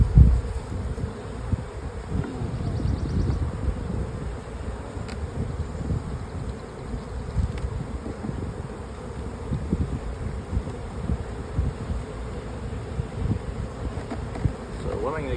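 Honeybees buzzing around an open hive while a colony is split into nucs, a dense, continuous droning hum of many bees close by, with occasional light knocks and rustling.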